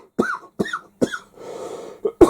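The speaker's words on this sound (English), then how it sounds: "smoker's cough." A rough smoker's cough in three harsh bursts, then a raspy wheezing breath and two more short coughs, close and loud.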